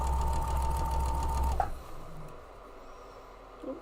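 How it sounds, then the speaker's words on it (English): Sewing machine stitching quilt pieces, a steady close mechanical whir that stops after about a second and a half, leaving quiet room tone with a faint rustle. "let's go ahead and get these sewn up now"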